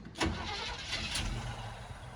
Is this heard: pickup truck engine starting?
yes